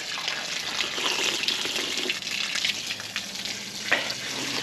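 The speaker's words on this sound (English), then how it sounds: "Drinking water from the hose, just like a kid." Water running steadily from a garden hose at an RV, a continuous close hissing splash with small irregular bursts, no talking.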